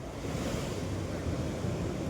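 Continuous rush of sea water washing and splashing against the shore at a shipbreaking yard, steady and loud, with wind noise and no voices.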